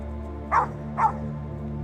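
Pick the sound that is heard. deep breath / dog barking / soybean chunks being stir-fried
dog barking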